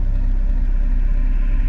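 Traffic on a busy, dangerous country road rolls past as a loud, continuous low engine rumble and tyre roar, close by and steady, heard from an e-bike ride with no voices.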